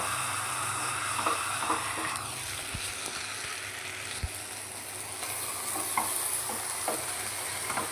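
Beef stir-fries and dry-roasts in a pan, with a steady sizzle beneath repeated stirring and scraping and a few sharp knocks of the utensil against the pan.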